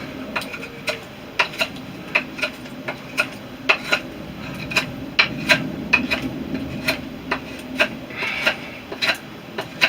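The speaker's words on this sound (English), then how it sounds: "When you've got that far, you can quite simply finish it off with the knife." A sharp knife whittles a greenwood tent peg in steady, rhythmic strokes, each cut a crisp scraping rasp of blade on fresh wood, repeating about twice a second close to the listener, with no talking.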